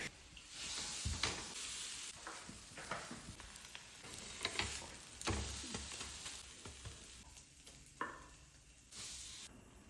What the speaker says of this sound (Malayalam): എന്നിട്ട് പാനിലൊക്കെ വെച്ചിട്ട് ഒന്ന് ടോസ്റ്റ് ചെയ്തെടുക്കുക.